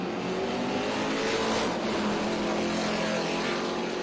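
A Brown Brothers Ford Mustang TA2 race car at Portland International Raceway, its engine roaring continuously and loudly at high revs, a dense steady blare with no talk.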